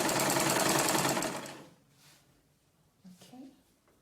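A sewing machine stitches a Victorian corset in a quick, rapid burst that stops after about a second and a half, followed by quiet and a short spoken phrase.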